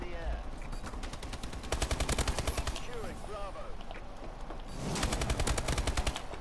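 Bursts of automatic gunfire in Call of Duty: Advanced Warfare with an ASM1 Rigor, two loud rapid volleys separated by a quieter stretch of game sounds and faint voices.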